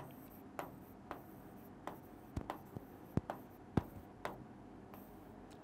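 A pen writes out equations by hand during a Class 10 maths lesson, making soft, steady scratching broken by sharp taps and clicks every half second or so, close and quiet.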